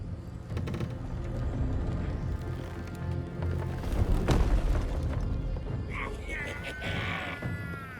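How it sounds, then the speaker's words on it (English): A cannon blast in the fantasy video game Baldur's Gate 3 lands as one heavy boom midway, amid busy battle noise and shouting voices, followed by ringing tonal effects. "Cannon!"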